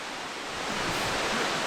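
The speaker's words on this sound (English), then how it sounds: "This is the highest waterfall in Croatia" Roar of the tallest waterfall in Croatia at Plitvice Lakes in winter, a steady, dense wash of falling water heard from close below the falls, loud and unbroken throughout.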